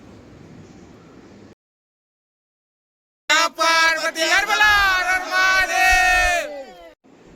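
A crowd of pilgrims at the Salbardi Mahashivratri fair on a Sunday shouts a loud chant in unison, close by, after a faint murmur and a brief silent gap.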